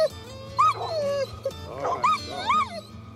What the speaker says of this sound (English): In recent years, his yellow lab Teal has been his hunting partner and his gu